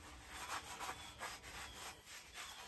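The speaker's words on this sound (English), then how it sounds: "I'm going to scrub the inside of this thing really good with lard." Lard is scrubbed by hand over the outside of a vintage steel skillet, making steady, close rhythmic rubbing strokes that repeat about every third of a second with no talking.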